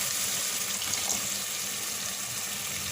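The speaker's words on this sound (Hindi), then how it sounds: "हस्बे ज़रूरत पानी" Water poured into a pot of biryani gravy with dried plums and gola kabab, a steady broadband splashing and running flow that carries on evenly for the whole stretch, close and moderately loud.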